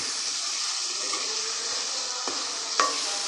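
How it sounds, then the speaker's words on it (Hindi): Spices bhuna-fried in ghee give a continuous close sizzle with light stirring and one sharp scrape of a utensil near the end. No one speaks. "अच्छी तरह से भून रहे हैं"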